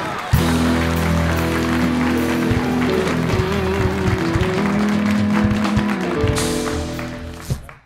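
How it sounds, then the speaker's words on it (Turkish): Steady crowd applause runs for several seconds over a bright musical backdrop, then tapers off near the end. "Alkış."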